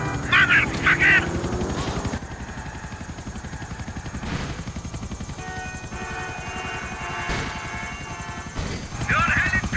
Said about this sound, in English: Your helicopter has arrived!